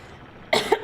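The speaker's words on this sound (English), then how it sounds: "Goodness, I have to cough all of a sudden." A single sudden cough bursts out close to the microphone after a quiet moment, sharp and loud with a second smaller hack right after.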